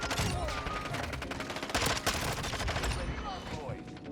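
VAZNEV 9K submachine gun fire in a Modern Warfare 2 Hardpoint match, dense rapid bursts of close, loud automatic shots with overlapping gunfire from other players.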